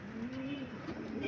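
A racing pigeon arrives at its loft during a training race, giving a soft, close cooing call with a brief sharp flutter or tap near the end.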